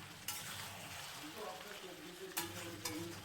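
Chicken sautéing in its own juices in a pan over a medium flame for a Bengali chicken curry, a steady soft sizzle with occasional spoon scrapes and clinks, fairly quiet and close.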